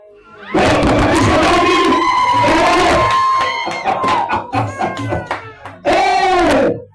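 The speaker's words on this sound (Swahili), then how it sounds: "Sasa hapa kuna shangwe na vigelegele" A wedding crowd erupts in loud, sustained cheering with high trilling ululation rising above it, fading briefly before a fresh burst of shouting and ululating at the end.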